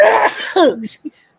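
A single loud, close sneeze bursts out and cuts off sharply, followed by a brief quiet breath.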